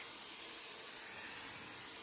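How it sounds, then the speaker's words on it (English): A spray bottle mists a sand gecko enclosure with a steady, soft, continuous hiss that runs unbroken and alone, with no speech. "I'm just going to give the whole enclosure a tiny little spritz"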